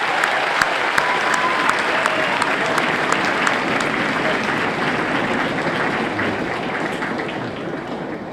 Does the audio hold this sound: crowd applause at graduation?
yes